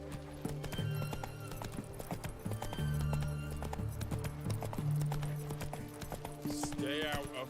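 Geralt's horse Roach from The Witcher 3 galloping with steady clip-clop hoofbeats, close and fairly loud, mixed with game music and ambience and a brief whinny near the end.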